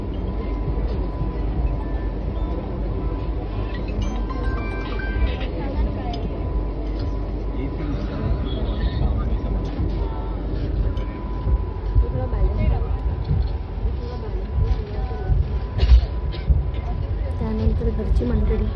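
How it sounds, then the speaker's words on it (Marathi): A Vande Bharat train running, heard from inside the coach as a steady low rumble and faint rattling throughout, moderately quiet, with occasional voices in the background. "ती बघा ट्रेन चाललेली आहे"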